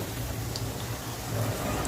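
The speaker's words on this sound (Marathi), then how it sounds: "जेवढ्या कढईत मावतील तेवढीच पुरी टाकून घ्यायची आणि तळून घ्यायची" Continuous crackling sizzle of spicy puris deep-frying in hot oil in a kadai over medium heat, dense and steady like light rain.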